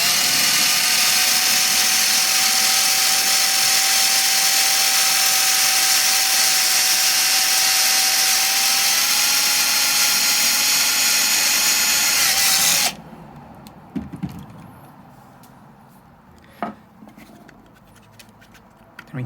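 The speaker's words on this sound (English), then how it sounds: "So this is just a cheap drill from Bunnings." A cheap power drill fitted with a 7mm bit bores into a bully stick with a loud, steady whine for about thirteen seconds, then stops abruptly, leaving faint handling clicks.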